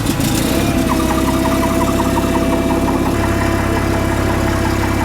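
A farm engine-driven unit, tested under load with its alternator running, rumbles as it is cranked and fires, settling into a steady, loud idle with an audible shift in tone about three seconds in.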